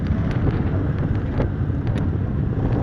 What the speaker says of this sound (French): Et je vous mens pas, il y a du vent, regardez.